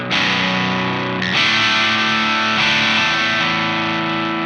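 Baritone guitar driven through a Thorpy FX Electric Lightning overdrive pedal into a tube amp, with flat EQ: thick, sustained distorted chords ringing loudly and continuously, with a brief restrike partway through and no talking.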